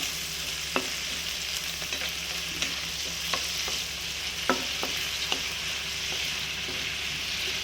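Spices sizzle in hot oil and butter for a prawn masala, a steady close frying hiss broken by scattered light clinks of a stirring utensil, with no talk.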